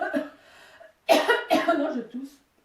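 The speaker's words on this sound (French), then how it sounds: "Non, je tousse." Someone in a kitchen cooking lesson coughs a few times in quick, harsh bursts, close by, after some softer vocal sounds.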